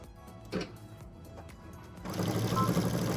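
A sewing machine runs close by, stitching fabric with blue thread for a tissue box cover. A few soft knocks come first, then a steady whirring hum grows louder in the final second.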